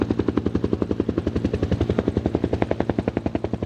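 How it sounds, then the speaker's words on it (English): Loud, rapid rhythmic thumping of helicopter rotor blades, steady and close, with engine whine underneath and no voices. "This type of helicopter you can pick up from miles away"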